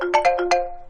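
A phone ringtone plays a short, bright melodic jingle of four quick tones with a sustained ringing hum beneath, loud and close, alone with no voices.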